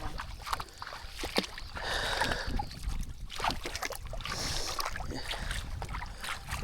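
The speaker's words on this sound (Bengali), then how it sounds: "নৌকা নিয়ে যাচ্ছি আমরা।" A boat sets out on the water for a snakehead fishing trip, with steady splashing and sloshing of water against the hull and a continuous low rumble of movement.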